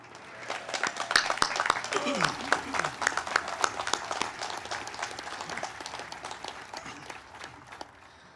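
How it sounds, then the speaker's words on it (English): An outdoor ceremony crowd at a groundbreaking for the Carolina Museum of the Marine applauds the 2nd Marine Division Band, a dense round of clapping that swells quickly and holds steady, with some talk audible underneath. "Now let's give a big round of applause to our 2nd Marine Division Band."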